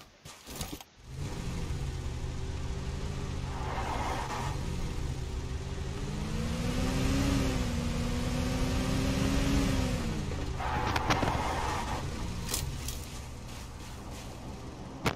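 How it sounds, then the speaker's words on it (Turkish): Car engine in the video game PUBG, a steady mid-pitched drone that rises and falls as the vehicle drives and accelerates, fairly quiet and continuous with no voices. "Önünüzde araba var Mehmet abi."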